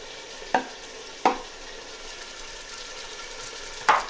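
Chopped green chilies fry in a lamb spinach curry with a steady soft sizzle, broken by three sharp stirring scrapes spread across the few seconds.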